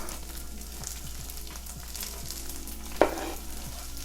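Onion tumbles into hash browns frying in a pan, a steady crackling sizzle with a soft thud as the pieces land and rhythmic scraping of a utensil.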